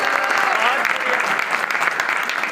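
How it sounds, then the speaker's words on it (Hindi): An audience applauds at a 2022 pigeon tournament prize event. The clapping is dense and continuous crowd applause, loud and close throughout the short stretch. "तालियां बजा दें अगर आपको बात पसंद आ रही है"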